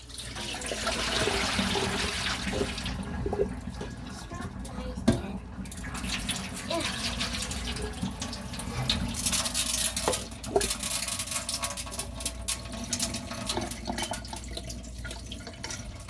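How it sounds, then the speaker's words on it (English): White rice being rinsed with water in a kitchen: continuous close splashing and swirling of water and grains, with occasional louder sloshes and drips. "Okay, we're gonna rinse it out one more time."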